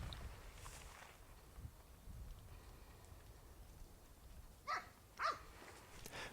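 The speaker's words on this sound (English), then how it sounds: "the way they are barking can reveal a lot about the type of hog they have located" Hunting dogs that have found a hog in the South Texas brush give two short, faint barks from a distance near the end, over low outdoor background noise.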